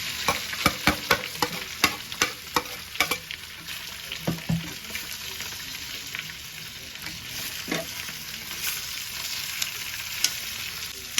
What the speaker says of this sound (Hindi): अब इसमें आलू को डालकर फ्राई कर लेंगे।